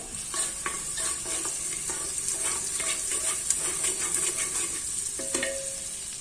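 Crushed garlic and ginger sautéed in a pan for khichdi, a steady sizzle broken by repeated scraping strokes of a spatula stirring close by, with no voices.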